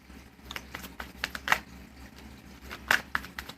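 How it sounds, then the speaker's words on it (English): Tarot cards are shuffled by hand during a reading, with a quiet run of crisp riffling slaps and flicks at an uneven pace, close up and alone. "So, we're going to shuffle and find out why the Eight of Wands is here."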